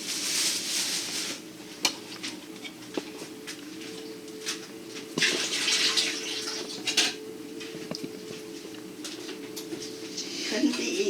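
Tap water running steadily into a kitchen sink as produce is rinsed, a continuous close hiss with small clatters, while a person talks over it.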